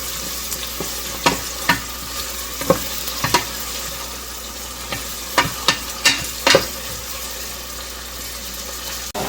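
Onions frying in oil in a pan, a steady sizzle under sharp, irregular scrapes and clacks as a spoon stirs them.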